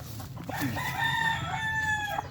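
A rooster at a gamecock farm crows once, a long drawn-out call rising and falling, close and clear over a faint low background hum.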